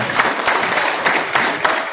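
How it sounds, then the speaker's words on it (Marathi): A crowd applauds with dense, steady clapping throughout, fairly loud and close. "मला वाटतं सर्वांनी एक राहुल चव्हाण साहेबांसाठी जोरदार टाळ्या झाल्या पाहिजे."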